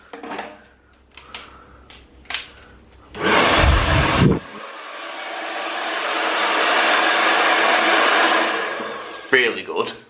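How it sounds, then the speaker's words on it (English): A hotel hairdryer gives a short loud blast, then runs as a steady, strong whoosh for several seconds before clicking off, with brief clatter before and after. "You have also got a really good hairdryer, and I mean really good."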